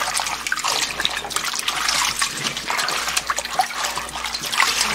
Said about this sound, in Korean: 지금 저는 마지막 헹굼하고 있습니다